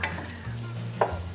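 Leeks and olives sizzling and being stirred in a pan for a stew, a short close scrape of the spoon over a steady soft frying hiss.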